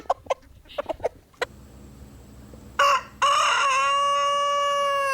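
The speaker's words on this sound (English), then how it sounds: "Chickens are very vocal birds, and they would be calling to each other" A few short clucks and chicken calls, then a rooster crows loudly and close, a long drawn-out cock-a-doodle-doo ending the clip.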